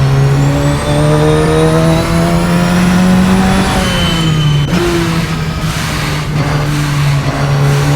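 Radical SR10 XXR race car engine revving hard and loud throughout, a steady high-pitched drone that climbs then dips briefly midway before holding again, close and alone with no talk.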